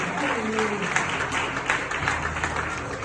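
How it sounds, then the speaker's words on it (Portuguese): A church congregation claps for Jesus during worship, sustained rhythmic clapping filling the space with a low hum of voices and instruments underneath. "Palmas para Jesus"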